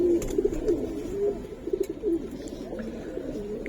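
Giribaz pigeons cooing close by in short repeated throaty phrases, several calls overlapping at an even pace over faint background noise.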